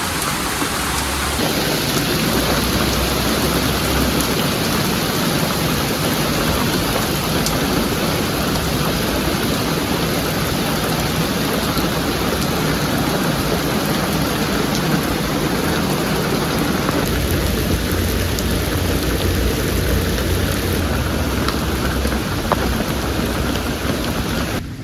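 Heavy rain pours loudly and steadily onto a farm stable roof, with deep thunder rumbling underneath throughout and no voices.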